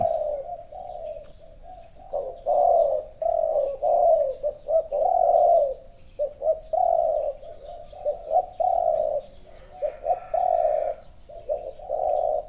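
Repeated soft, low spotted dove coos in rhythmic phrases with short pauses, close and clear, with faint chirps in the background.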